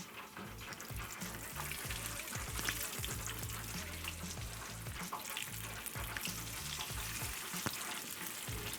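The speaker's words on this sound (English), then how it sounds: "we're just gonna take our wings and we're gonna drop them right in." Floured chicken wings drop into hot oil in a pot over an open flame, setting off a loud, close, continuous bubbling sizzle that holds steady throughout.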